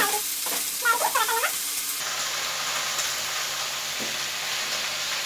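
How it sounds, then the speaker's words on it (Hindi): Eggplant fries in oil in a kadai, giving off a steady close hiss of sizzling with a brief clatter early on. "इधर मेरा पालक साग के लिए बैंगन ऑलरेडी भून रहे हैं"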